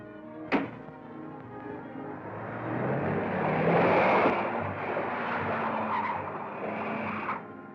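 A car drives off with tires skidding and squealing, starting with a sharp thunk and rising into a loud, sustained screech that fades near the end.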